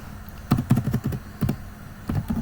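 Typing on a computer keyboard, a few sharp clustered keystroke clicks in short bursts, close and clear with no talking.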